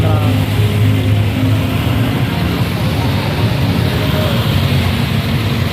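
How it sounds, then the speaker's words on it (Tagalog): Traffic stands jammed on a road after heavy flooding and rain during a typhoon, with a continuous loud rumble of idling engines and rain noise close by. "Traffic wala nang galawan oh."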